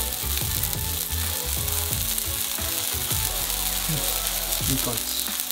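Breaded chicken tenders for sasami fry cook in a hot pan of oil, a dense, continuous close sizzle with clattering pan and utensil knocks underneath throughout.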